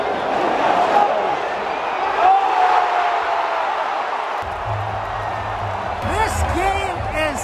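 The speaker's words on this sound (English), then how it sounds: "the crowd's insane" Stadium crowd at a Barcelona v Arsenal match at SoFi Stadium roars steadily and loudly after a goal, a dense wash of cheering with whoops and shouts rising over it.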